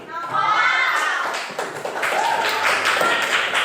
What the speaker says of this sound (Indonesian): Yuk, beri tepuk tangan langsung.